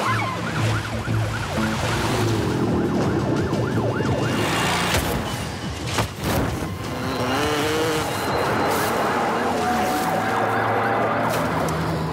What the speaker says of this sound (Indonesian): tapi mobil polisi sudah mengejarnya